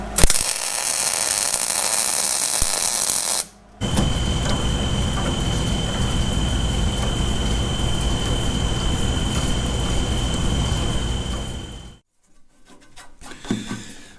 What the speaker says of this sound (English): take a tap right through there and continue the new threads on out the top of the new block